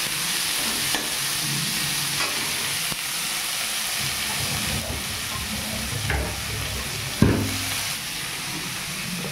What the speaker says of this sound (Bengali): আমি পেঁয়াজটা হালকা লাল লাল করে ভেজে নেব।